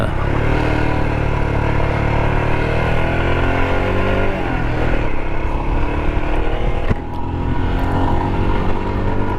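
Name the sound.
2023 Royal Enfield Himalayan motorcycle engine while riding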